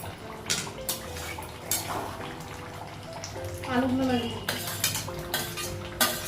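Metal cookware clinks and scrapes as a pot lid is lifted in a home kitchen while cooking a Bengali goat meat curry, with short clatters, a watery hiss and a voice talking softly in between.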